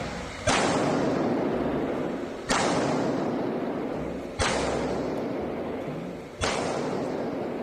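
Gunfire at shooting practice for a carry permit: four sharp, loud shots spaced about two seconds apart, each followed by a long reverberant decay, with no talking.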